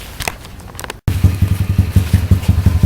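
A pit bike engine, recently fiddled with at the carburetor and choke, cuts out briefly, then restarts and runs close and loud with a rough, pulsing putter.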